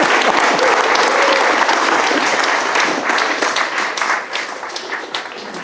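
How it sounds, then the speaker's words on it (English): An audience at a Lotus gathering at Group Lotus HQ in Hethel gives the judges a warm round of applause, a dense wash of clapping that holds steady and then thins out toward the end. "could I ask for a round of applause for the judges?"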